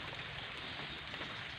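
Rain falling steadily behind a house during a hailstorm, a faint, even patter with no voices.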